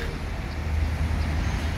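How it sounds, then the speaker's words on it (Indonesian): A bus pulls into a bus terminal, its engine a low, steady rumble that swells slightly as it comes closer, with no voices nearby. "Nah, ini ada bus masuk"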